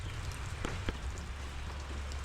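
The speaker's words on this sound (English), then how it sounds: "But it's raining." Rain falling outdoors on a cold, wet day, a steady dense patter with occasional sharper drops, fairly faint and with no talking.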